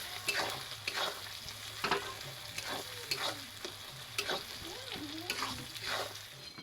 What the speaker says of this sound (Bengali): তারপরেই আমি টমেটোগুলো দিয়ে দেবো